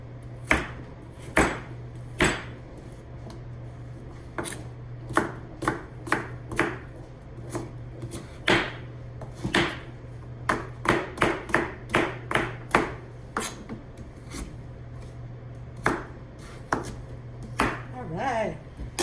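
Pumpkin is chopped into rough pieces on a cutting board, sharp knife strikes landing in irregular bursts, some quick runs and some spaced pauses, close up over a low steady hum with no talking.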